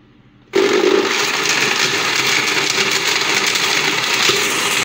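A kitchen blender runs steadily, blending jaggery with plain water into an instant homemade sugarcane-style juice; the loud motor whir starts abruptly after a brief quiet moment and holds even through the rest.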